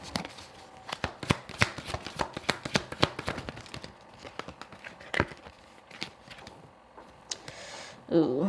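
Tarot cards shuffled by hand, a quick run of sharp papery riffles and flicks close to the microphone, thinning into scattered softer card sounds, with a brief rustle at the end.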